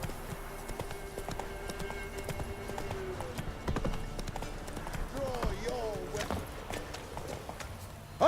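Hooves of the horse Roach galloping in The Witcher 3, rhythmic clip-clop running under frequent spoken voices and game sounds, moderately loud and close, with a louder burst at the very end.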